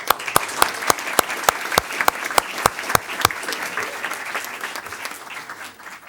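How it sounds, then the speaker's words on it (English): Applause from the audience at a school board meeting, with a few sharp distinct claps standing out over a lighter spread of clapping that softens and thins after a few seconds. "let's have a round of applause."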